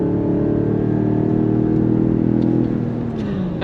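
A 2026 Dodge Charger R/T sedan in rear-wheel drive accelerating hard on throttle, a loud continuous engine drone that climbs steadily, then drops in pitch as the automatic transmission shifts near the end.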